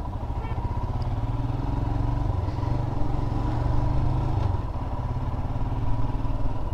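A Royal Enfield Himalayan motorcycle ridden off-road on a narrow road, its engine thumping steadily and loudly up close with a constant low drone and slight shifts in pace throughout.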